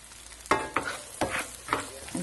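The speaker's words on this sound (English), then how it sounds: "you're going to brown your onions" Onions sizzle and brown in a pan for beef stroganoff while being stirred, with a utensil scraping and tapping the pan in short rhythmic strokes over a soft frying crackle.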